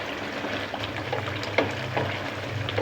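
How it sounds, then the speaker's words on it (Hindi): Chicken masala frying on high heat, a dense continuous sizzle with occasional stirring scrapes and small bubbling pops, close and steady throughout. "थोड़ी सी तेज़ आंच करके इसकी भुनाई कर लेंगे।"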